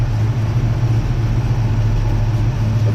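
A 1962 Dodge Dart with a 440 engine on a tunnel ram intake idles close by in a steady, dense low rumble with no voices.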